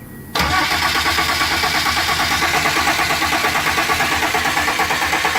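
Fiat Ducato diesel engine, freshly rebuilt after 500,000 km, cranks briefly and then catches, settling into a loud, rhythmic running beat close by with no talk.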